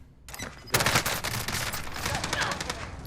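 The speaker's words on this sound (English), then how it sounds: "Enjoy that victory sound." A Call of Duty: Warzone victory sound: a brief tone, then a loud, dense burst of rapid gunfire-like cracks that keeps going steadily to the end.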